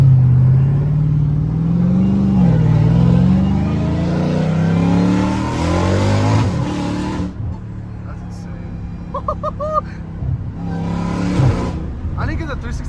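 A straight-piped, catless Hellcat Redeye engine accelerating from inside the car, a deep rising rumble that drops away, with someone talking over it.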